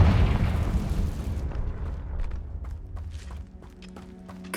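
A Confringo blasting spell explodes in the video game Hogwarts Legacy: a loud, heavy boom at the start that rolls off into a long rumbling decay, with faint scattered crackles and pops trailing after it.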